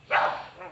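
A single short, high yip from a young puppy in a yard, close and fairly loud, fading quickly into faint background.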